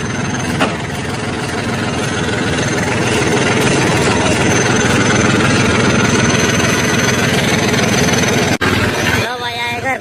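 A Swaraj tractor engine runs steadily while driving, a loud continuous low diesel drone with a brief dip near the end.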